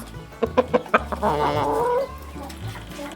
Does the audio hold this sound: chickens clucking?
yes